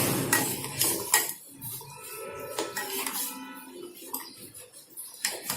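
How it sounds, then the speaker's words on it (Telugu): Spoon stirring sugar into milk in a pot for fruit custard, a run of light metallic clinks and scraping taps against the vessel, close and fairly quiet, with no talking. "షుగర్ యాడ్ చేసుకున్నాక ఒకసారి ఇలా మనం మిక్స్ చేసుకుందాము"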